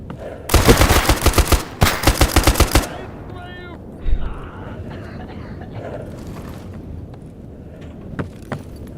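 Enemy automatic gunfire in S.T.A.L.K.E.R. Anomaly on hardcore Ironman difficulty: two loud, close bursts of rapid shots, followed by a single distant shot and quieter ambient sounds with a voice speaking.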